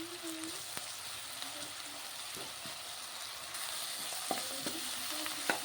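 Onions fry in a pan with a continuous soft sizzle and occasional scraping stirs, heard close but at a modest level.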